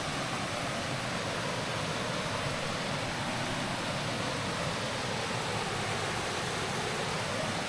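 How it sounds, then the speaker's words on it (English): Steady, full-band rush of water pouring over an upper falls or spillway on the Elk River in North Carolina, continuous and fairly close with no voices. "So this is an upper falls area. Or like a spillway."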